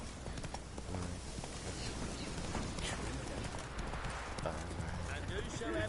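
Roach, a horse in The Witcher video game, gallops with steady, rhythmic hoofbeat clip-clops close by, heard under a talking voice and game background sound.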